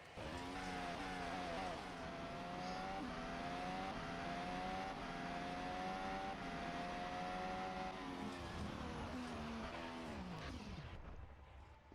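An onboard Formula 1 car engine at the 2023 Brazilian Grand Prix screams at high pitch throughout, rising and falling with gear changes, loud and steady, with wind rush underneath.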